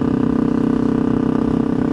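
Motorcycle engine fitted with hollow stainless steel mufflers, idling loud and close with a steady deep rumble and a slightly lumpy, pulsing rhythm throughout.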